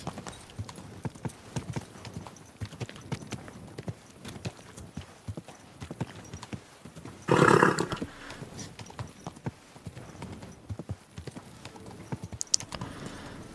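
Steady clip-clopping of horse hooves at a walking pace in the video game Kingdom Come: Deliverance II, with a brief louder rustling burst midway; no talk.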